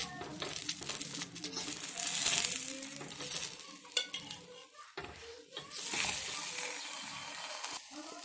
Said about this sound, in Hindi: अब इसको मैं तवे के ऊपर डाल देती हूँ।